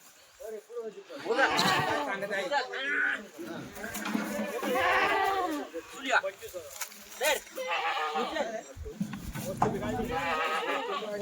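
Kathiawadi goats bleat at a livestock market. Their calls rise repeatedly from a busy, noisy background, and people talk steadily over and around them throughout.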